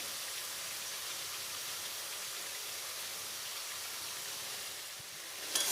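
Vegetables frying in a pan with turmeric and salt for a Bengali fish head recipe, a steady bright sizzling hiss that holds evenly throughout, close and moderately loud.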